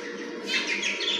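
Myna bird calling close by, a run of bright chirps and warbling notes over a steady background hum, with no talking.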